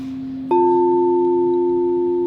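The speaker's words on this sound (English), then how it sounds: "They did this new thing where it was like a sound bath" A sound bath tone during a breathing exercise: after brief quiet a single steady tone strikes and then rings on evenly, loud and sustained, with no voices.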